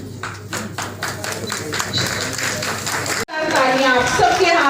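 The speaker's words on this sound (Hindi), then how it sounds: "आप ताली जोर से बताइए" Audience applause at a ceremony honouring a woman during a mid-day meal ration kit distribution, clapping steadily for about three seconds before breaking off into loud voices talking.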